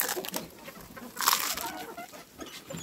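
A brooding hen with her newly hatched chicks clucks softly in a few low, scattered calls, close by and fairly quiet, with a faint broadband rustle of background noise.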